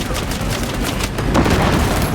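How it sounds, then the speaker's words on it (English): A frag grenade blast in the game Warhammer 40k Space Marine 2 comes through as loud, dense rumbling bursts that sound like a continuous barrage of gunfire and explosions up close. "Frag grenade deployed!"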